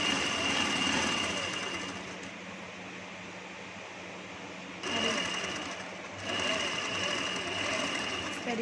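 A sewing machine runs steadily, stitching piping cord into fabric for a potli-style neckline, with a continuous mechanical whir that dips in level midway and picks back up, and no talk over it.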